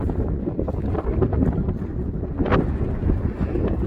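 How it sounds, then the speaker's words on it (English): Strong wind buffets the microphone with a continuous low rumble and gusty roar throughout. "I know this is going to be really bad windy because it's really windy today"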